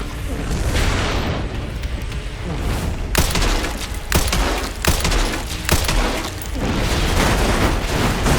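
Grenade blast in the Resident Evil Requiem survival-horror boss fight, a loud booming detonation amid heavy continuous combat noise and repeated sharp impacts.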